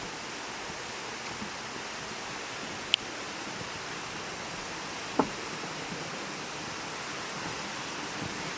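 A woodland waterfall at night gives a steady, distant broadband rush. It stays faint and even throughout, broken only by a few isolated small clicks.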